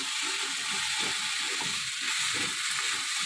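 Okra frying in a pan on a home kitchen stove, giving a steady, close hiss of sizzling oil with faint clicks and light clatter throughout.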